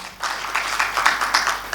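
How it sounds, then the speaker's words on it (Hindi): An audience at a spiritual meditation talk claps together, a dense steady patter of many hands that starts abruptly and carries on at moderate loudness until the end. "अब ताली एक बार और बजाएं।"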